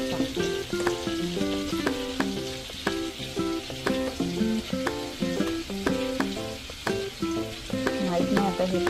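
Marinated chicken lollipops sizzle and fry steadily in a pan, a dense crackling hiss throughout with no talk.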